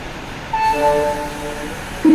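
Konkan Kanya Express at Panvel station: a diesel-electric train's steady rumble with sustained horn-like tones through the middle, then a louder low burst near the end, all without talk.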